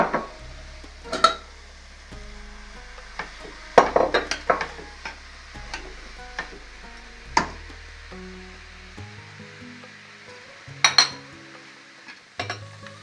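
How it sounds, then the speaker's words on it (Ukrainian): Meat and spices being added to a filling for cheese-dough pies: scattered sharp clinks of a utensil against a pan with softer stirring scrapes between them, close up and unhurried, no talk. "Додаємо м'ясо і спеції."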